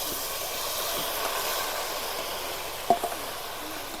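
Amla and jaggery dropped into hot oil already tempered with five-spice, chilli and bay leaf: a steady, broad sizzling hiss that runs evenly throughout, with a couple of small pops and clinks near the end.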